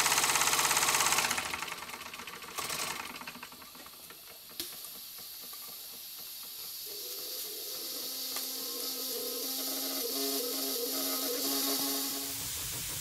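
A model steam engine in a workshop runs with a loud rush of hissing steam that drops sharply as the valve is shut, leaving a quieter mechanical clatter and faint whistling hiss that slowly builds again.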